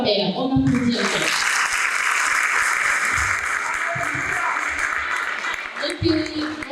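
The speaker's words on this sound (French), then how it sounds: "On applaudit encore." Audience applause at a live slam poetry show, steady sustained clapping filling the space for several seconds while a presenter's voice speaks over the start and the end.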